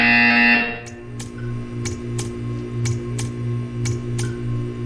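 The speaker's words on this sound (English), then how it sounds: "When you hear the buzzer, stare at the art." A short burst of noise gives way to a steady electronic buzzer tone from the game Portal 2, pulsing with evenly spaced clicks roughly every half second.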